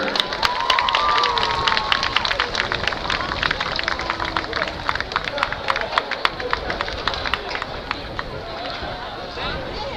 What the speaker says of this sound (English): Put your hands together for your Pasadena High School varsity